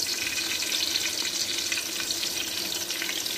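Onions fry in only slightly hot oil for buka stew, giving a constant close crackling sizzle with a watery, bubbling texture and no talking.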